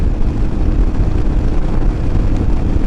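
A Royal Enfield Himalayan motorcycle engine holds 4,250 RPM on a slight uphill, giving a steady, dense low drone mixed with constant wind buffeting.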